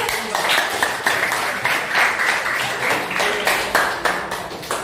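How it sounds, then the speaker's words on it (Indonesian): Students in a classroom clap together for a classmate's answer, a loud, continuous burst of many hands with rhythmic pulses running through it from start to finish. "Tepuk tangan dulu."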